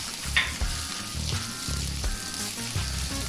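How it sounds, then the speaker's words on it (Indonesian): Galangal, lemongrass and bay leaves sauté in a hot pan with a steady loud sizzle and occasional stirring scrapes, and no voices are heard. "Kita tumis sampai harum dan kering."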